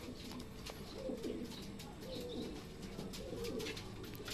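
Several racing pigeons in crowded transport crates on a truck coo softly in low, rolling bursts over a steady background hum, close together and repeating every second or so.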